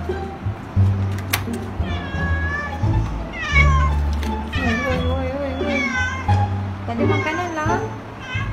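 A cat meows repeatedly at a girl's house, a series of clear, rising and falling meows over a steady low hum, with a voice talking over them.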